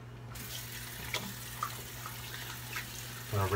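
Tap water runs steadily into a sink to rinse a Proraso shaving soap puck, a continuous close hiss throughout, with a few faint clinks and a brief voice near the end.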